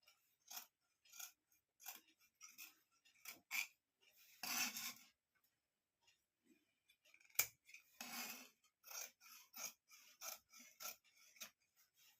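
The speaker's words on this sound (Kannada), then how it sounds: "ಈ ರೀತಿ ಈ ಕಡೆ ಕಟ್ ಮಾಡ್ಕೊತೀನಿ" Scissors snip through a thick stack of blouse fabric pieces, giving a series of crisp, close rasping cuts in short bursts with quiet pauses between them and no voices.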